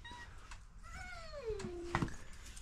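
A cat gives a single drawn-out, falling meow, faint and close, with soft background noise around it.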